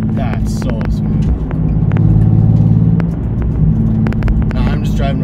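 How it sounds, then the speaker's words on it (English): A Nissan 370Z fitted with a new RJM clutch cruises gently through a neighborhood, its engine a steady low rumble with mild swells in revs, heard from inside the car throughout. "Now, I'm just driving around the neighborhood, so I'm not gonna push it too hard yet."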